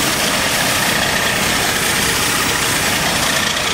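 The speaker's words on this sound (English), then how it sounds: "You can hear that little hissing sound." An idling AMC Eagle engine with a vacuum leak gives a steady, loud broadband hiss over a low engine rumble, unbroken for the whole stretch.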